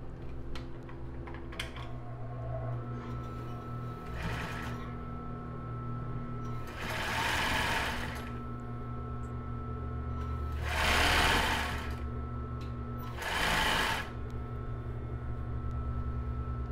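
A sewing machine stitches a seam on a plus-size bra made with raw jaraguá elastic, running in four short, fairly loud bursts over a steady low background hum, with no talking.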